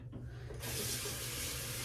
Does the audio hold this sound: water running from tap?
yes